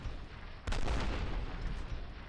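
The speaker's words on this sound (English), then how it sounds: "Oh, look at all the explosions and people flying back in slow-mo cinematic style." A deep, loud boom in the shooter game F.E.A.R. bursts in with a sustained roar of blast and gunfire that stays heavy and dense, without a break.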